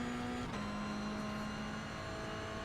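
A Toyota GR86 engine hums in iRacing at Mosport, holding a steady, even drone with a brief dip in pitch as the car shifts, then settling into a constant in-car tone with no talk.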